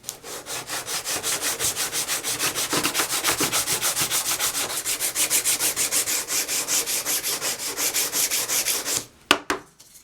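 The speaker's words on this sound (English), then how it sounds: "So, a little bevel sanding." Bevel sanding a Guardians of the Galaxy prop boot rocket part by hand, rapid rhythmic back-and-forth scrapes at a steady pace, close and loud, ending with a few knocks.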